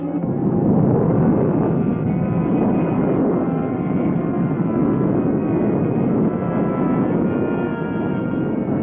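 A cartoon spaceship launching and flying off, with a steady, loud, broad roaring rumble that holds level throughout without pause.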